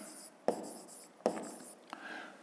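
Pen or chalk writing during a Ukrainian seventh-grade physics lesson, heard as a few short scratching strokes with sharp taps at the start of each stroke, close and moderately quiet, with no talk over it.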